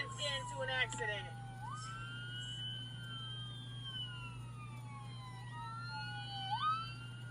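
An ambulance siren sweeps up and down in long wailing tones as it passes on the road, heard from inside a car with a steady engine hum beneath and a brief burst of other noise early on.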